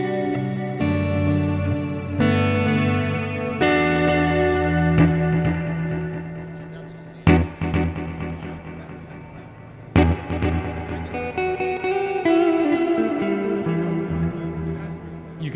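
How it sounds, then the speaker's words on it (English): A Strymon delay pedal sends guitar echoes into a spring reverb, so sustained chords ring out with trailing repeats and a springy wash. Two sharp strikes split the passage into sections. "the echo feeds into the spring, so it's voiced to really complement the echo as well"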